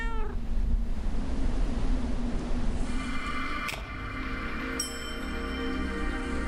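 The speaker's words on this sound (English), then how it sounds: "This doesn't seem like the right home for a beautiful cat like you." A cat in the 2D horror game Burnhouse Lane lets out meows, starting with a high mewing cry, then later a drawn-out meow and a sharp higher one, heard against a constant rumbling game ambience with no talking.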